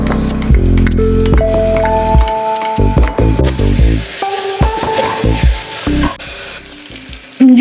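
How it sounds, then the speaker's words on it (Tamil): Ginger garlic paste sautés with browned onions for mushroom biryani, a loud, close sizzle with stirring scrapes, heard under a melodic background tune. "இஞ்சி பூண்டு பேஸ்ட் நல்லா வதங்கிடுச்சு பாருங்கள்"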